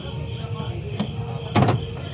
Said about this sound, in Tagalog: try natin kung ma-unlock ba niya using na yung ating bagong flip key